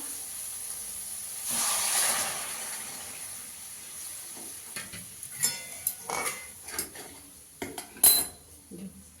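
Hot water is poured into spiced oil in a pan, giving a brief hissing burst of steam, followed by clattering spoon and pan clinks and scraping as it settles.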